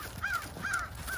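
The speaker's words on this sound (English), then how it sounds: "you can hear a lot of crows" Several crows caw outdoors near a pond in early spring, three clear harsh calls spaced about half a second apart, moderately near, with no talk.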